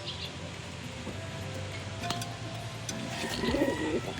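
Soft racing pigeon cooing in a low, rounded burst near the end, over steady background noise and faint rustling.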